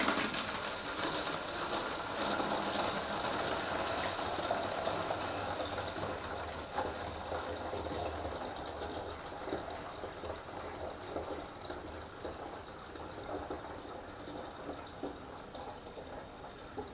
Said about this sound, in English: And now we're just going to pour it in.